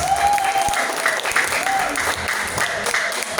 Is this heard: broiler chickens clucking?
no